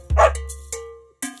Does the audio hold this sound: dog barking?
yes